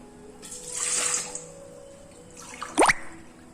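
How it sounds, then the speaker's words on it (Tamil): Two glasses of water splash and pour into a metal pot on a stove for about a second, followed after a pause by a short, sharper pour with a rising tone as it fills. "அடுப்பில் ஒரு பாத்திரத்தை வச்சுட்டு அதில் நார்மல் வாட்ரு ரெண்டு கிளாஸு ஊற்ற போகிறேன்"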